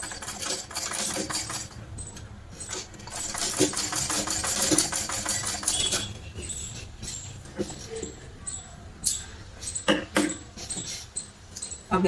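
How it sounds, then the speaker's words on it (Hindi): A sewing machine stitching a blouse whirs in uneven bursts, rising to a busy run of rapid needle clatter then breaking into shorter stop-start spurts, fairly quiet and close. "फिर इस पर हम सिलाई लगाएंगे"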